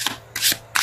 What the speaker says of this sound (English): Let's pull a challenge card.